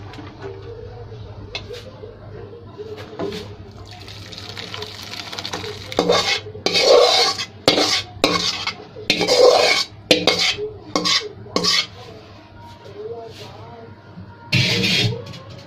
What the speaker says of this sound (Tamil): இப்போ நம்ம வந்து இந்த கோவா ரெடி பண்ணியிருக்கோம் இல்லைங்களா மில்கில், அதில் வந்து இந்த பாயசத்தை மிக்ஸ் பண்ணிக்கலாம்